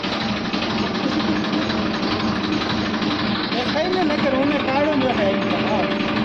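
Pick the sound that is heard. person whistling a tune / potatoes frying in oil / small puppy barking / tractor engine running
tractor engine running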